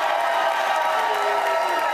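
Studio audience at a Jerry Springer Show dancing contest cheers and claps for contestant number one, a dense continuous roar of crowd noise with whoops, steady and loud throughout.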